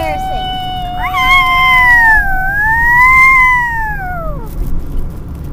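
A young child imitates a police siren with a high, wavering voice that rises and falls in long sweeping wails, loud and close, with brief chatter from others around it.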